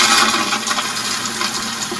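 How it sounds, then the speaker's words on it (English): A toilet fitted with a pressure-assist flush kit flushes forcefully, producing a loud, continuous rushing roar of water close by with no voices. "I'm going to flush the actual toilet. And you'll notice 2 things, a different sound as well as a much more aggressive flush"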